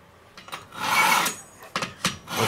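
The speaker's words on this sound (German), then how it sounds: "ich soll mein Messer schleifen? Mache ich immer wieder mal." A kitchen knife is sharpened before grilling burritos, giving short rasping scrapes of the blade, one long stroke and several quick strokes, close and fairly loud with no talking.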